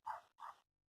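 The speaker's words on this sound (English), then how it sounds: "Excuse the dogs in the background." Two quick, sharp dog barks sound in the background, one right after the other and fairly faint, with silence following.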